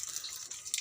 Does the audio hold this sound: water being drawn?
yes